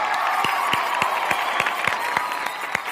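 Audience at a comedy show clapping steadily with scattered sharper claps, a dense continuous patter of applause throughout without speech.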